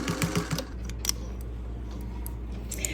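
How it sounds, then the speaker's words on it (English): A 1949 Singer 201 sewing machine stitching a seam on a quilt, a close, quiet rhythmic clatter of the needle with a few brief ticks and light handling taps in between. "I'm really loving sewing on this old Singer 201. It's a 1949 sewing machine."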